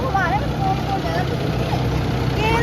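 An old joy train engine idles at a rail museum, a steady low rumbling drone running throughout with people talking over it.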